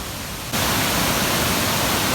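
Rushing water pours steadily at Seetharkundu waterfall in Palakkad, a dense, loud roar that comes in abruptly after a brief quieter moment and then continues unbroken.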